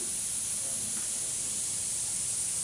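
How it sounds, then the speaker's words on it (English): A steady spray from an inexpensive $10 airbrush set to a wide pattern hisses evenly for a few seconds, a broad airy rush with no pauses and no voices. "So there you go, that's my wide spray."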